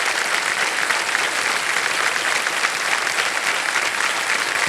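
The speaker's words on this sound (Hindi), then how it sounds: "तालियां बज जाएं इनके लिए।" Studio audience on a televised quiz show applauding a contestant who has just won a large cash prize, a dense, even wash of clapping held at full level throughout without talk.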